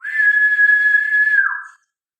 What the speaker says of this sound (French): vous sifflez une note aiguë